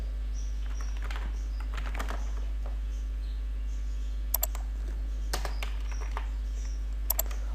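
Someone types a title on a computer keyboard, producing soft, irregular key clicks with a few sharper taps, close and quiet over a steady low hum, with no talk.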